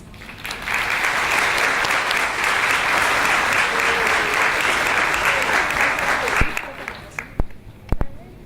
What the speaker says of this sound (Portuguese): Vamos receber, com uma salva de palmas, o professor doutor Carlos Alberto Feldens.